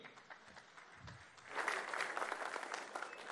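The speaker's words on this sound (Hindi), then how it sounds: "तो जोरदार तालियां आनंद नरसिम्हन के लिए।" Applause breaks out from a conference audience at a televised awards event, starting modest and swelling louder after the first second and a half into dense, sustained clapping.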